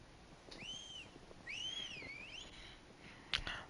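A character whistles in the video game Final Fantasy XVI, two clear rising-and-falling melodic phrases close and prominent, followed by a brief sharp noise burst near the end.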